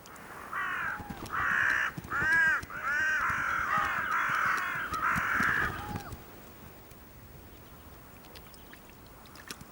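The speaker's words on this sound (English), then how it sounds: "The crows quickly get the upper hand." Several crows caw repeatedly in a loud, harsh run of calls while scavenging near eagles at a pond, the calls then stopping and leaving quiet outdoor ambience.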